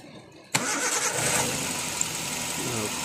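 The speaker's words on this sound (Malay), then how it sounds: "Tapi kalau udah depan mata engine ini memang goyang kuat bro" A car engine with a strong shaking fault, worn mounts and high timing, starts with a sudden burst and settles into a steady, loud close idle; a voice murmurs faintly underneath.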